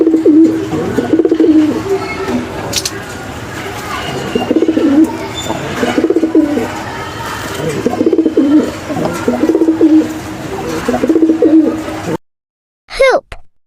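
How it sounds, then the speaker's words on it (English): A pigeon coos repeatedly in a steady rhythmic pattern of low, throaty calls, close and loud, continuing for many seconds before a brief pause and a short final sound. "pigeon"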